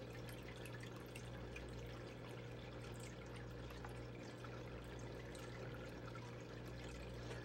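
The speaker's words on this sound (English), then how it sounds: "let's start running some dirt down this sluice" Water and Bering Sea paydirt wash steadily down a gold sluice box in a continuous, even rushing pour with a faint trickling texture, quiet and unbroken throughout.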